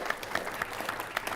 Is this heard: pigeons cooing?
no